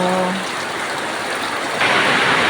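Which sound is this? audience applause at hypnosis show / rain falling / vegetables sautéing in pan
rain falling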